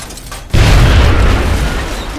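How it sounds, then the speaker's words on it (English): Grenade blast in the turn-based tactics game XCOM: Enemy Unknown, one loud close boom that hits suddenly and rumbles on as it slowly decays. "Probably should be using my grenade. Put it there."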